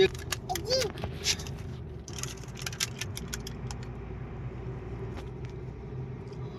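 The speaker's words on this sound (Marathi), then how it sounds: "हायवेला गाडी चालवायची मजा" A car cruising on a highway, heard from inside as a steady low engine and road rumble with light rattles, while people talk over it.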